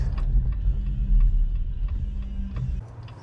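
Low rumble of passing highway traffic on Georgia Highway 211 at 7:30, engines droning steadily, rising and falling as vehicles go by.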